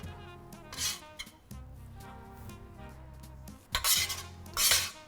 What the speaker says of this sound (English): take a spoon and just gently give them a final toss in the dressing